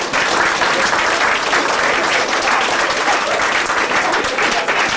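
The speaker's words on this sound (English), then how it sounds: "can we have a round of applause for them?" Audience applauding hypnosis show volunteers, a dense, loud, steady wash of clapping from a crowd that carries on evenly for the full stretch.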